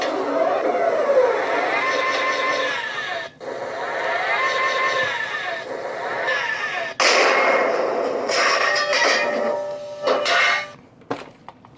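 Whirring servo gears of a 3D-printed 1/16 scale FV101 Scorpion tank model, buzzing in long sweeping runs broken by brief pauses, with sharp mechanical clacks of the gun recoil near the end.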